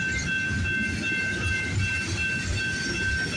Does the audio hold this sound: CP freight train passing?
yes